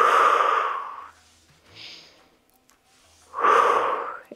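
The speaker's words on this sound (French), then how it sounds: "Je souffle." Two forceful exhaled breaths during an at-home ballet-style Pilates workout, each a long, airy whoosh close to the microphone, separated by a quiet pause with faint soft sounds.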